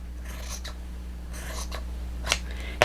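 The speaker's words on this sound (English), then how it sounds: "you can use a rotary cutter or scissors and just cut straight across" Fabric is cut straight across with scissors or a rotary cutter for oversized makeup pads: a few faint, brief snipping and slicing strokes spaced apart against a quiet room hum, with no talking.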